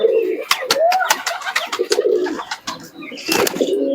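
Teddy pigeons coo up close, low rolling calls repeated several times, mixed with sharp clicks and wing flutters in a lively loft.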